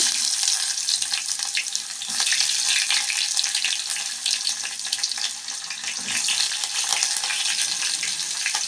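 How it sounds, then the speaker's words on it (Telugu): Onion added to hot oil in a pan, frying with a steady, loud hiss throughout, close by, with brief swells and no talk. "ఇప్పుడు మనం ఉల్లిగడ్డ వేసుకుందాము"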